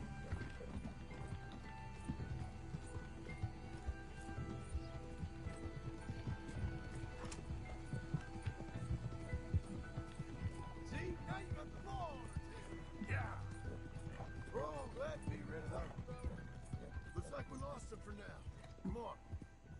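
Horse hooves clip-clop steadily through the Red Dead Redemption II game world, a continuous rhythmic patter under game music and ambient noise, with a few brief whinnies and voices talking over it.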